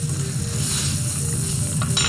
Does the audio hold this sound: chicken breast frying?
yes